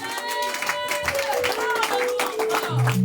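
Clapping from a congregation during a Sunday thanksgiving church service, with rhythmic hand claps mixed with voices and sustained musical tones.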